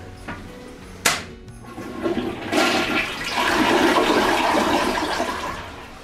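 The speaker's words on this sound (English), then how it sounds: "The way you pull a toilet out, you basically flush it" A toilet in an old farmhouse bathroom flushes loudly and close by: a sharp click of the handle, then a swelling rush of water that holds steady for several seconds.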